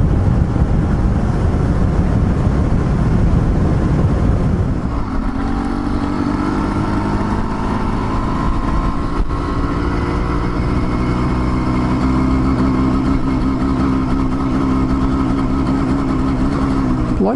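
Car and motorcycle traffic passes near the Westmontrose covered bridge in Ontario, loud and close with a rushing pass, then a steady engine hum with rising pitch.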